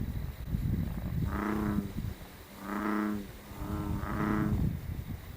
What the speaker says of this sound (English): The bullfrogs have a very low call.